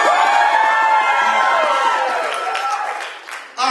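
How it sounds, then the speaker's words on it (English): A crowd at a live poetry show cheers loudly with whoops, shouts and scattered clapping, a continuous roar that dips briefly near the end before surging back. "No, I said a nice big cheer"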